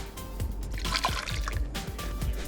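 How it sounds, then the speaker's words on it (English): Half a cup of water poured into a pot at a freezing winter campsite, a close trickling splash that swells in the middle, then dwindles to a few drips. "Half a cup of water, put that in the pot."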